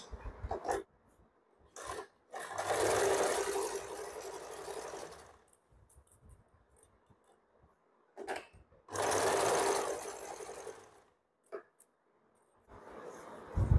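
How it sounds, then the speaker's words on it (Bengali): A sewing machine stitches a frock sleeve cuff in two long bursts of steady whirring, with quiet handling noises in the pauses between. "আগে হাতার মুহুরিটা সেলাই করে নিচ্ছি"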